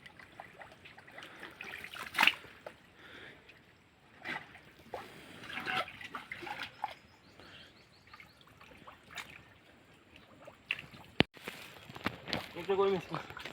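Water trickles into a village drain ditch while it is bailed out to catch fish, a faint intermittent dribble heard under frequent talking and occasional sharp splashes and knocks.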